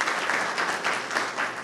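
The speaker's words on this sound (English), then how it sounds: "let's give her an applause" Brief burst of steady audience applause at a 2012 DeKalb County town hall meeting, a dense, continuous patter of many hands clapping with no voices over it.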